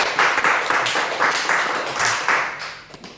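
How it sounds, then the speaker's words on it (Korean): Applause for a newly attending church member during a Sunday morning worship service, as a congregation claps in rhythmic, rolling waves for about three seconds, fairly close and steady before tapering off. "우리 박수로 환영하겠습니다."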